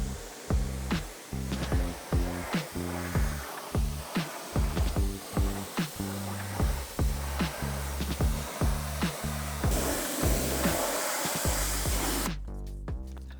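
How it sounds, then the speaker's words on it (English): A pressure washer sprays a car during cleaning, giving a continuous hiss over a steady, rhythmic pulsing of the pump, close and fairly loud throughout with no talking. "grab the pressure washer, let's see what happens"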